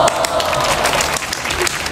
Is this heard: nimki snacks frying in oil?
no